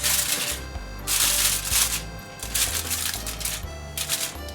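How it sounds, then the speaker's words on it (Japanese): Aluminium foil crinkles and rustles as it is pressed over a dish while making a fluffy Western-style rolled omelette, coming in several close, loud crackling bursts separated by brief pauses. "のっけてアルミホイルで蓋をします。"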